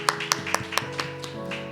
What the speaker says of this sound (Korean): 하나님께 영광의 박수 올려드리겠습니다.